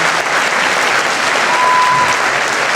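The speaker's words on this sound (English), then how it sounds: "Give me a round of applause." An audience at a concert show gives a round of applause, a steady dense wash of clapping that holds loud and even throughout.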